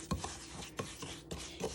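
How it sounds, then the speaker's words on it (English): Salt and oil exfoliating scrub stirred in a bowl, giving a gritty, rasping scrape that repeats in four short, close strokes at a steady rhythm, quiet and with no voices. "Make sure your salt is stirred up really good."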